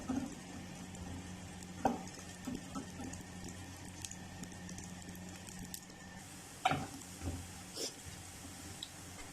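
Garlic and whole red chillies fry in hot oil for a chana dal tadka, giving a steady low sizzle with occasional sharper crackles and spoon stirs, close by and moderately quiet, with no talking.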